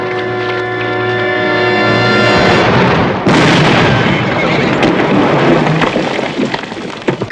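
A single loud gunshot from a long gun aimed at a target about 500 yards off, in a 1966 Western TV film. The sharp blast cuts through background music and leaves a rolling rumble that fades away.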